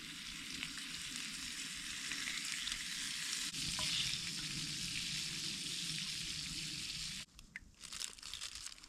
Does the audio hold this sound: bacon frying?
yes